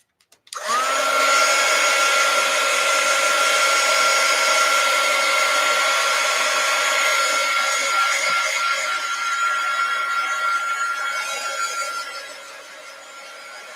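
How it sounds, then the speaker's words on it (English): A heat gun blows over freshly made artwork, switching on abruptly and running as a loud, steady whirring hiss for about twelve seconds before easing slightly toward the end. "let me dry this. Heat gun alert,"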